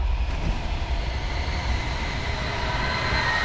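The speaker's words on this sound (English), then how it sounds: "Is that the whole train?" A train rumbles past steadily in the video game Alan Wake, a loud, continuous low roar with a faint high whine running through it and no talk.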